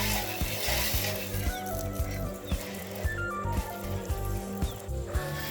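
A DIY electric water pressure pump connected to a spray gun runs with a loud, close mechanical drone, broken by a regular rhythmic clicking and thumping as the motor builds pressure.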